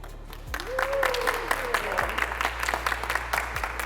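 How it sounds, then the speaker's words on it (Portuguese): An audience breaks into applause inside a museum building, a scattered crackle of clapping heard at moderate distance over a low hum, with a voice rising briefly above it and a few thumps in the background. "Não estava no roteiro as palmas"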